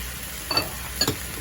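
Onions and peppers for chicken fajitas frying in a pan, a steady soft sizzle with two brief louder bursts of stirring or scraping, close and with no voices.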